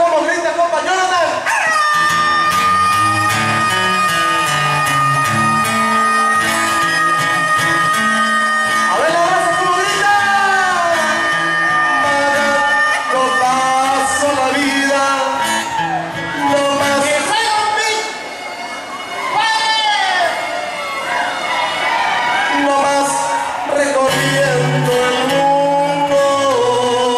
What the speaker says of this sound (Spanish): la gente mexicana, ¿cómo grita, compa Jonathan?